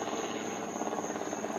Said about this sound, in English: That's a helicopter. That is a helicopter.